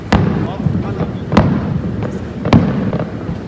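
Sharp fireworks bangs pop every second or so against a steady rumbling background, with crackling between the louder blasts, during a riverside picnic.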